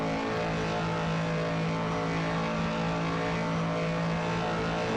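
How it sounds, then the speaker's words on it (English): Race car engine at an endurance race in the style of Le Mans, captured from an onboard camera mounted over the engine: a loud, sustained, steady engine drone at constant high revs, with no talk. "I think the best engine noise is going to come from this camera."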